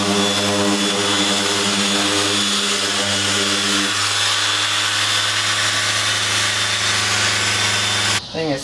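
A power tool whirs at high speed while buffing scratches off a Honda Civic, a loud sustained whine that shifts pitch partway through before a brief clatter at the end.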